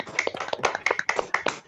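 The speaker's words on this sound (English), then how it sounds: "When I say clap, you have to clap." A small group claps on command in quick, uneven bursts, close by. Several sharp claps overlap for under two seconds, with no talk.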